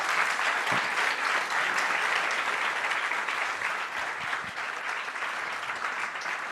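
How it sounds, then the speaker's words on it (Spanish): A church congregation breaks into applause, a dense, sustained wash of many hands clapping together, moderately loud and even throughout with little else heard. "Denle un aplauso a Dios por las guerreras que tenemos aquí en Banatier."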